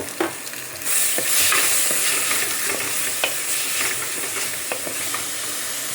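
Tomato frying in a pan over a medium gas flame gives a close, continuous hissing sizzle, broken by sharp scraping ticks of a spoon stirring it.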